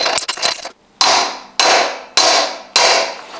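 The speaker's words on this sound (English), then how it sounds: "You just gotta pound the race out of the neck" Four sharp, loud metallic hammer blows strike at an even pace to drive a bearing race out of a steering neck, each ringing off briefly, after a quick rattle of smaller knocks.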